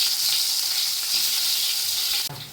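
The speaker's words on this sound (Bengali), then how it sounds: "এই যে তেল গরম করে নিয়েছি, তেলে একটু হালকা লাল লাল লাল লাল করে ভেজে নেবো সব কাঁকরোলগুলো" Pieces of spiny gourd (kakrol) fry in hot oil with a loud, continuous close sizzle, briefly disturbed near the end by a stir.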